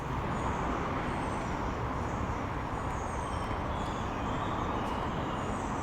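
Steady roar of road traffic in Moscow, a continuous broadband rumble of passing vehicles with no breaks, moderately loud and fairly close.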